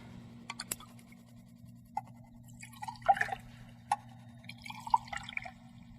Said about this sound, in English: So go ahead, mix them, pour them back and forth about 3 times.